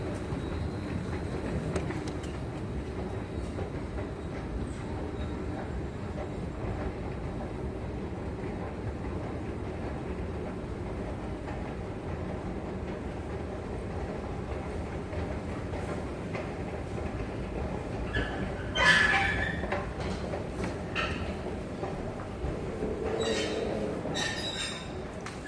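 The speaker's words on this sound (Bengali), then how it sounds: "এটা হচ্ছে বার্সি মেট্রো" A Paris metro train at Bercy station rumbles steadily and low throughout, with a brief sharper burst of wheel or brake squeal and clatter late on, fairly close and with no talking.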